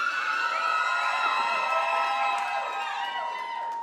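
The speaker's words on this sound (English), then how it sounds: "Cheering, it's nice." A welcoming crowd of rock-band fans at a radio event, cheering and whooping steadily and loudly throughout, with scattered shouts rising above the roar.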